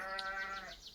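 A sheep gives a short, wavering bleat close by, a single nasal cry lasting about a second.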